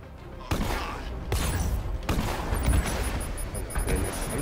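Gunfire in Batman: Arkham Knight, a steady barrage of loud automatic shots with booming bursts, close and continuous, during a fight against a tank.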